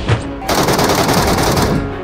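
Loud, rapid automatic gunfire in a battle-royale style shooter game, a short sustained burst of dense, continuous shots that fades at the end.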